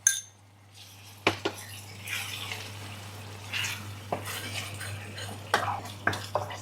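A utensil stirs balado sauce with tamarind water in a pan, giving scattered metallic clinks and scrapes over a low steady hum, moderately close with no talking.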